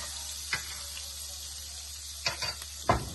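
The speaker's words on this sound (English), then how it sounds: "So the garlic can be totally infused with the additional garlic butter" Garlic cooking in melted butter and extra virgin olive oil, a low steady sizzle with a few sharp stirring clinks and scrapes near the end, no talking.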